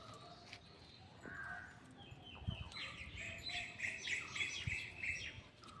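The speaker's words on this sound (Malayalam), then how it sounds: "അതിൻ്റെ ഇടയ്ക്ക് പക്ഷികൾക്ക് ഓരോ ശബ്ദങ്ങളില്ലേ." Birds call outdoors at a distance, a crow-like caw followed by a run of quick high chirps, faint against a quiet background.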